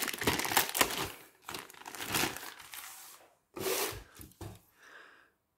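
Abyssal Dwarf army box packaging being ripped open, with close crinkling and tearing of plastic and cardboard in bursts, a brief pause, then more rustling handling that fades out.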